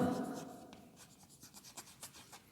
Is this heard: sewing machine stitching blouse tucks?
no